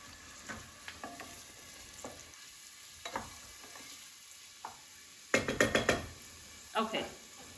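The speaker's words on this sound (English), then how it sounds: "give it a little stir" Refried beans being stirred in a pan with scattered knocks and scrapes, then a quick burst of several rapid clatters, over a quiet low sizzle. A voice speaks faintly in the background.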